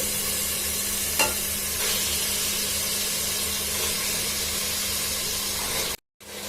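Mutton liver with browned onions and ginger-garlic paste sizzles steadily in a pan, a close continuous frying hiss with light stirring scrapes and no talk, cutting off briefly near the end.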